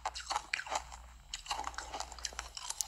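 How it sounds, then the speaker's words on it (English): Crunchy bites and chewing from an ASMR eating recording, a rapid series of close, crisp crackling crunches that continue without pause and without speech. "Oh, that crunch."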